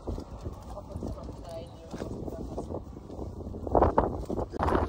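Loose horses walk across a parking lot in the Pyrenees, hooves clopping in an irregular rhythm close by, with wind buffeting the microphone and people talking over it.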